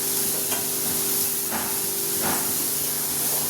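Bitter gourd is stirred with salt and turmeric in a pan, giving a steady soft hiss with a few light scraping strokes, close and moderately loud, with no voices.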